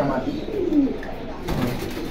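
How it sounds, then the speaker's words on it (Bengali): Pigeons coo at the Jinjira bazaar pigeon market, soft low rolling calls up close mixed with nearby voices and market bustle. "এখানে অনেক কবুতর আছে"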